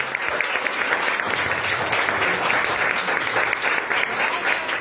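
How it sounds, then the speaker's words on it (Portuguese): A church congregation claps together in a dense, sustained round of applause filling the room, loud and even from start to finish. "Aplauda o Senhor Jesus."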